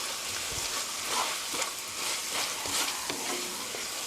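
Pork stir-fried with ground black pepper and soy sauce sizzles in a hot pan, with steady scraping and stirring strokes over a continuous crackling hiss, close and fairly loud.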